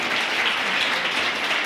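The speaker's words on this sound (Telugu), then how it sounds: "అందరికీ మరొకసారి గట్టిగా చప్పట్లతో స్వాగతం తెలియజేస్తున్నాం." Audience applause at a government high school programme in Hyderabad, a steady dense wash of clapping that continues evenly throughout without pause.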